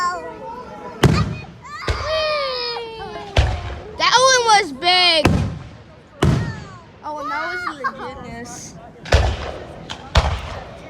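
A July fireworks display at a Niagara fire company, with a run of loud booming bursts, some crackling and whistling shells, spaced irregularly about a second apart, while onlookers talk and cheer between and over the blasts.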